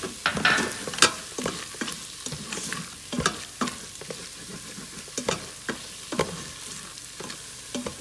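Potatoes for masala dosa filling sizzle in a pan while a spoon stirs them, producing a soft frying hiss punctuated by irregular scraping and clattering strokes, close and clear with no talk.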